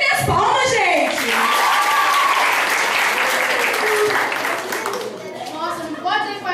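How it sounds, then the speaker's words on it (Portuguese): Guests at a country-style wedding celebration clap loudly and steadily in a close crowd, the applause filling the whole stretch, while voices and a child's speech break through at the start and end. "E minhas palmas, gente!"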